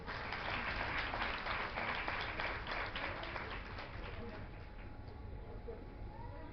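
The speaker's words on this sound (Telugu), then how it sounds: "ఆఖరిగా చప్పట్లు కొట్టండి." Wedding guests applauding at a church wedding ceremony, a broad sustained clapping from a crowd that gradually thins and softens toward the end.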